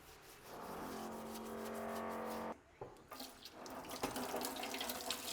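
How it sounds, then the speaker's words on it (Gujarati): Kitchen tap running steadily into a sink while the faucet is scrubbed clean with a little dish liquid, a continuous close water stream that halts briefly midway, followed by splashes and rubbing as the flow resumes. "આપણે નળ ઉપર પણ ઉમેરી દઈશું અને નળ પણ સરસ ધોઈ લેશું"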